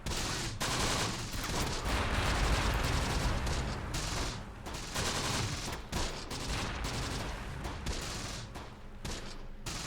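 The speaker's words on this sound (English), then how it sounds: "Make sure we're returning fire directly on that MG." Dense, continuous gunfire in the Italian hills in the Close Combat war game, with rifle and machine-gun fire aimed at an enemy machine-gun nest, loud and sustained with a few brief lulls and no talking.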